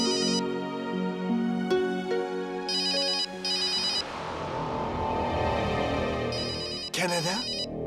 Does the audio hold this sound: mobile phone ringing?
yes